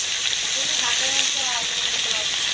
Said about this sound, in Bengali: 100 টাকা আলু পটল ভাজি হইতেছে মাছের জন্য